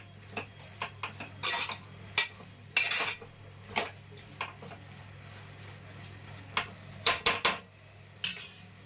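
A spoon scrapes and clinks against a pan while cucumber tomato curry is stirred, sharp irregular metallic taps and scrapes at close range over a quiet background.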